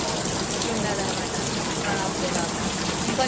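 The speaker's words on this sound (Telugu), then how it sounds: "ఇట్లా ఇంత ఫుల్ వర్షం పడుతుంది" Heavy rain pours down steadily outside a small house, a dense continuous hiss of drops hitting surfaces that stays loud and even throughout.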